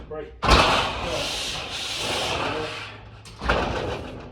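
An aluminum sheet is worked in a sheet metal brake for lengths longer than the brake, giving broad scraping, grinding rubs that swell at the start, hold steady for a few seconds, then return in a second loud burst.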